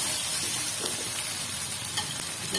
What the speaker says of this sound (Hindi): तो यहाँ पे हम डालेंगे इसमें अदरक लहसुन का पेस्ट।